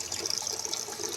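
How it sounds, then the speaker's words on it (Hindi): Tap water runs steadily on a rooftop while kitchen cloths are washed, a constant close hiss and splash with no other sound. "इधर चला दी मैंने पानी भी जो है वो चल रहा है।"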